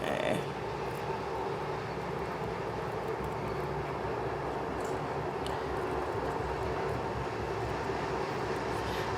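A heavy train passes close by in a sustained, loud low rumble and broadband roar that stays even for several seconds, with no voices over it.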